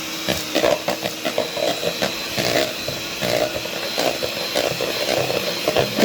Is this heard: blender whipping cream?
yes